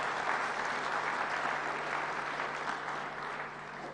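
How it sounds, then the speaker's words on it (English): A room full of people claps steadily for several seconds, the applause even and sustained before beginning to taper off. "If we could give all of them a round of applause."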